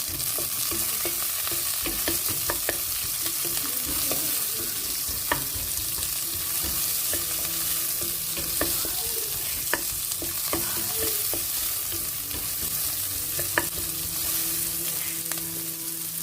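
Nigella seeds, cumin, onion, green chilies and peas sizzling in hot oil for poha, a loud steady frying hiss with scattered crackles and spoon scrapes throughout, no talking.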